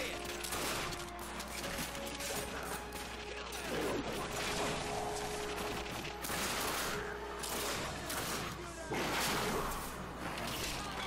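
Gunfire from the video game The Darkness II, dense rapid bursts of shots crackling almost continuously over a low hum, with chaotic battle noise underneath and no clear talk.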